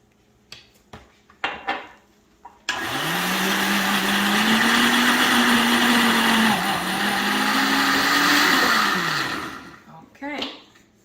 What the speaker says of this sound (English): we are going to blend our flaxseed